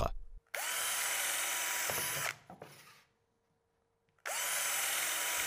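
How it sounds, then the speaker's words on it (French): Power drill boring holes for a wall-mounted tool rack, two loud sustained whining bursts with spin-up, separated by a brief clatter and a pause, no talk. "Percez les trous à chaque fois équidistants d'environ 20 cm."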